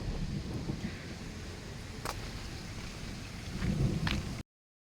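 Rain falls steadily during a sudden heavy downpour over a farm garden, a continuous hiss and patter, with faint distant thunder rumbling low underneath, no voices.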